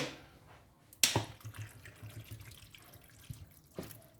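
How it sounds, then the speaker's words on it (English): Tap water running into a pot for marinated lamb, a sharp splash onset followed by a steady, close gushing stream that fills the clip. "And then I'm going to fill it up with water as well, because we need as well water."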